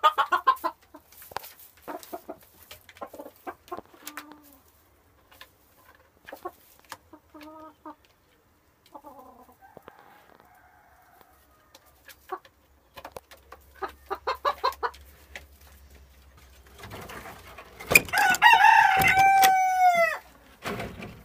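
Small Ardennes bantam roosters in a coop give scattered clucks and calls, then one crows loudly up close near the end, with a faint low hum underneath.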